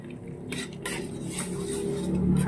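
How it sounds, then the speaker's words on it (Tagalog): Beaten duck egg stirred into sautéed tomatoes, with a utensil clinking and scraping against the pan in brisk, close strokes and a faint sizzle underneath. "Haluin lang ng haluin."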